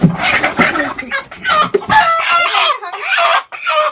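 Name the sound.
country chickens clucking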